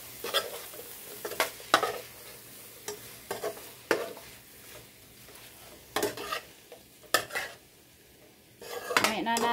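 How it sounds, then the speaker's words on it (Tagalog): A metal utensil stirs food in a sizzling pan, irregular scraping clanks and knocks against the pan repeating over a faint low frying hiss. "Haluin natin."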